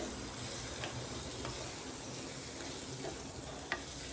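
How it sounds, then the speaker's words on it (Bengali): Potatoes and onions stir-fry with spices over medium gas for spiced potato rice, producing a continuous close sizzle with occasional light clicks of a spatula against the pan. "এবার সব মশলার সাথে আলু পেঁয়াজটাকে ভালো করে কষিয়ে নিচ্ছি"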